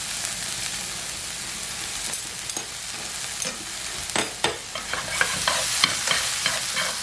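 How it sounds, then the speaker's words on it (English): Sausages cook in a pan on the stove with a constant crackling sizzle, and sharp pops and spatters grow denser toward the end; no talking. "So while this is cooking, I'm gonna put the sausages back in there."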